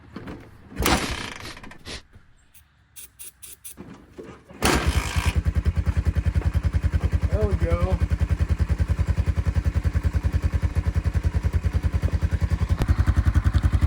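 Honda FourTrax ATV with choke on, a few loud kicks and sputters, then the single-cylinder engine catches and settles into a steady, rapid idle chug up close, with a brief spoken remark early on.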